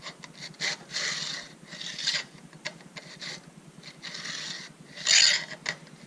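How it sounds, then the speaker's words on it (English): Chainsaw chain sharpened with a hand file in a Granberg file guide: repeated one-way rasping strokes, about seven or eight of them at an uneven pace, close and fairly quiet, with no talk. "When you're filing, you only want to go one direction."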